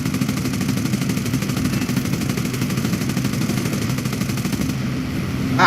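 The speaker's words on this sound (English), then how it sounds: "somebody's shooting at me" Gunfire in a P-40 Warhawk flight video game, a dense continuous rattle of rapid shots over steady aircraft engine drone, loud and unbroken throughout.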